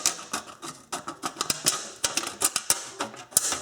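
Scissors snipping through a thin aluminum soda can, cutting around the bottom: a quick series of close, crisp clipped snips with a tinny edge, irregular in rhythm, no talking.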